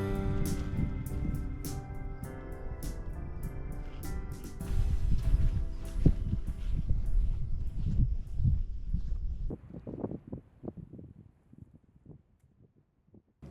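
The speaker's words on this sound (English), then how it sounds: "it's a little bit windy on this evening" Gusty evening wind on the Missouri River buffets the microphone with low rumbling roars, steady at first and then easing into intermittent gusts toward the end.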